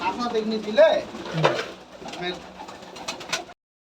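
Giribaz pigeons coo softly nearby in short throaty bursts at a pigeon farm, mixed with people talking in the background.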